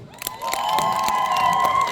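A concert audience at a Teacher's Day and Defenders Day event in Nemishaieve, Ukraine, cheers and applauds in a brief, loud burst, with high voices and whoops over a sustained tone in the hall.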